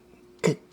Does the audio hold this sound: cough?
yes